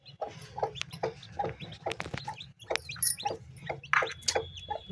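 A hen clucks softly while newly hatched chicks peep in quick, high, repeated chirps, close by, with a low steady background hum underneath.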